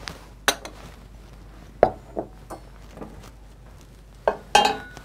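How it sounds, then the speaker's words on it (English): Buttermilk mashed potatoes are spooned into a serving bowl: a handful of sharp clinks and scrapes of a utensil against the dish, spaced irregularly and fairly close, over quiet room tone. "We can go ahead and put them in a serving bowl now."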